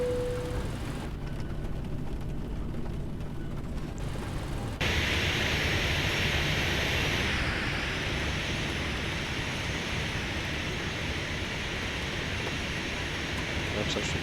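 Boeing 737 engines in a flight simulator game, roaring steadily on the takeoff roll at London Stansted. A thinner hiss opens the stretch, then the noise swells into a loud, even engine rumble that continues to the end.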